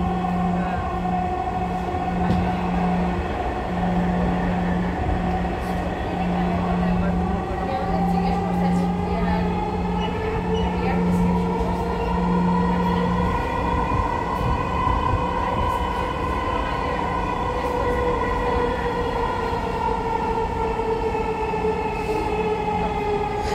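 A Dhaka metro rail train runs between stations with a loud continuous rumble and rising and falling motor whine, heard from inside the carriage.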